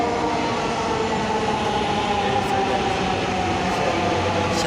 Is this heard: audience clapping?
no